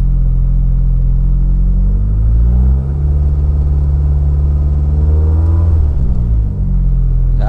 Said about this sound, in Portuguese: Vamos ver aqui se ele já aceita acelerações com o motor gelado.